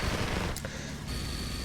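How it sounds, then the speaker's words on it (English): Gatling cannon fire in the real-time strategy game Mental Omega: a dense, rapid rattle of shots under a steady wash of battle noise, fairly quiet and continuous for under two seconds. "And Gatling cannon just raining down on this"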